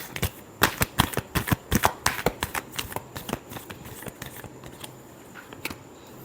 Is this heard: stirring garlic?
no